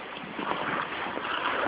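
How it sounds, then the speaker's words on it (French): Wind blows steadily outdoors, a broad rushing hiss buffeting the microphone with gentle swells, no voices. "Il y a du vent maintenant"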